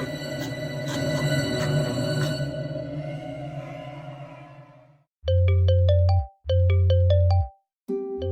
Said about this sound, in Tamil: ஃபோன் அடிக்குது. ஃபோன் எடுறா.